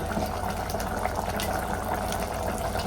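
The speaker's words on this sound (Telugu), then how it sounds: "వాటర్ అంతా ఇనికిపోయేంత వరకు మూత తీసి ఉంచుదాం తొందరగా ఆవిరైపోతాయి కదా" Uncovered mutton gravy simmering in a pot, a steady dense bubbling and hiss of boiling liquid, close and continuous with no talk.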